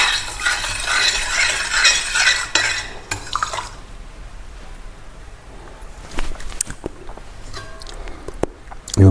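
Chapati dough is stirred and mixed in a bowl, with loud, rapid scraping and clinking of utensil against the dish, then quieter, sparser knocks and a final sharp clatter.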